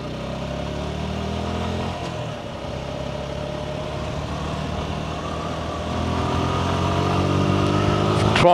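A Suzuki Gixxer SF 150 motorcycle pulls away under full throttle on a gravelly road, its engine note climbing steadily through the gears and growing louder toward the end, with wind rush beneath.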